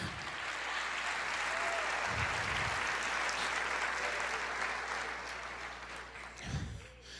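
Church congregation applause fills the room, steady and fairly close, a sustained wash of clapping with a few low thumps that tapers off slightly toward the end.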